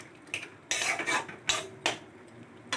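A metal lid clatters onto a cooking pot in a home kitchen, a few light clinks and scrapes of metal on metal, close and moderately loud with no talk.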